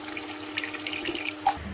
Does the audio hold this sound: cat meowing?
no